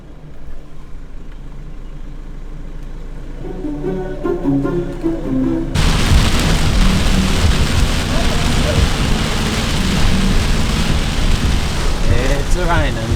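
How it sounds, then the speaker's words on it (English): Rain patters steadily at a high-country campsite after a 4x4 drive, soft at first and then swelling abruptly into a loud, dense downpour, with voices faintly underneath. "It's raining."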